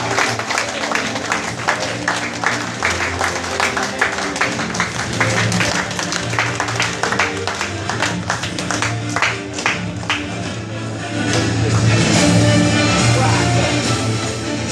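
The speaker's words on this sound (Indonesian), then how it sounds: "Kita beri tepuk tangan" An indoor audience applauds honoured guests at a gathering with sustained, dense clapping throughout. The applause swells louder toward the end, and faint voices are mixed in.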